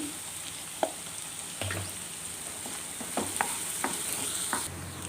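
Onions sautéing in a pan as turmeric powder goes in, a steady close sizzle broken by several sharp spoon scrapes and taps against the pan, with no voices.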